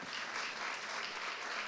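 Crowd applause during an award ceremony, a continuous, even roar of many people clapping at moderate distance, with no pauses and no clear voices over it.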